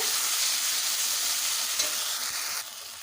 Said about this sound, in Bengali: এবারে দিয়ে দেবো দু চামচ ফেটানো টক দই খুব তাড়াতাড়ি নাড়াচাড়া করতে হবে